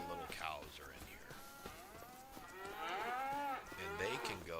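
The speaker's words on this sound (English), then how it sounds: "Alright, so now all of our little cows are in here." Cows in Farming Simulator 25 moo repeatedly from a pen, several drawn-out, overlapping calls close by at moderate volume.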